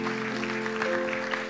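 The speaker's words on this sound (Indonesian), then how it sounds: "Tepuk tangan buat Muhammad" A church congregation applauds during a Sunday worship service, a short steady burst of clapping over a sustained musical drone.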